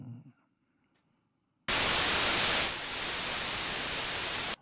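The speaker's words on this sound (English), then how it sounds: "So that's white noise," Broadband white noise test signal from an iPad tone generator app, starting abruptly after near silence, loud and steady for about three seconds before cutting off.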